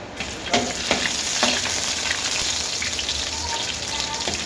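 Garlic fries in hot oil for stir-fried broccoli, a loud close, continuous hiss and crackle with a few sharp clinks of a utensil against the pan, no voices.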